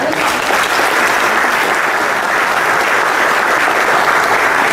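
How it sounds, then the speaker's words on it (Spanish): Dense, steady applause from a conference audience at a national forage congress and research day, loud and continuous for about five seconds with no voices over it. "Por favor, un fuerte aplauso para él."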